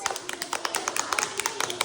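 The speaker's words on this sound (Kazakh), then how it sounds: "шапалақ ұрамыз." Children clap together in a classroom, a quick scattered burst of many small hand claps of uneven rhythm, moderately close.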